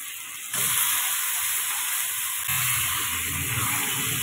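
A kilogram of raw chicken goes into a hot, oiled pan for a chicken and potato curry, making a steady, loud sizzle that surges twice as the pieces land.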